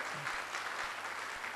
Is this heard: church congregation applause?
yes